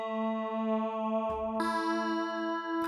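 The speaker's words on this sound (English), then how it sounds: "where it morphs between two waveforms dynamically by using the XY," A Predator 3 software synth plays sustained, harmonically rich tones that shift in timbre as it morphs between two waveforms, with sudden changes in brightness partway through and a brief cut near the end.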